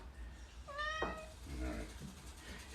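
A house cat meows close by, first a rising, drawn-out cry and then a shorter, lower meow and a faint third call, over quiet room noise.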